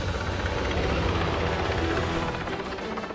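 A helicopter hovers close overhead carrying a ball on a tether, its rotor thumping and engine whine forming a loud, steady roar that never lets up.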